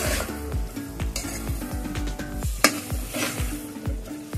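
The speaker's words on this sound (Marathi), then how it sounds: "छान मिक्स करायचं. 4-5 मिनिट परतायचं." Vegetables for Mumbai-style pav bhaji sauté in a pan with brisk, rhythmic spoon scrapes and metallic clinks over a constant sizzle, loud and close, one sharper knock partway through, no voices.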